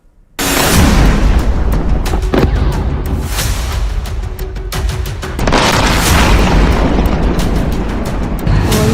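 Continuous heavy blasts from air strikes on Iranian cities roar without a break, loud and dense with deep rumble, with a second surge of explosions partway through.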